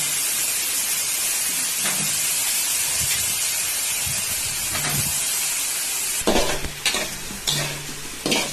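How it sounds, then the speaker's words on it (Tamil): Steady sizzling of eggplant sautéing in hot oil, with occasional stirring scrapes and louder bursts of hiss near the end. "கத்திரிக்காவை நல்லா வதக்கணும்."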